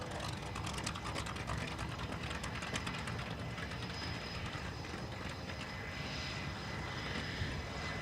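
A propeller aerobatic airplane's engine during a hammerhead turn at the SUN 'n FUN Aerospace Expo airshow: a steady, loud, broadband engine roar that holds for the whole stretch with no talking.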